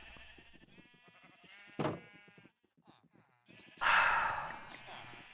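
Sheep bleating in a Minecraft pen, a few short bleats spread across the moment with a louder burst near the end, partly overlapping a voice talking.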